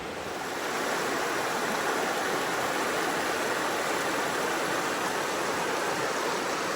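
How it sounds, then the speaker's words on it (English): A steady, rushing wash of a flowing river fills the scene, loud and unbroken, with no other sounds standing out. "The river's beautiful this morning."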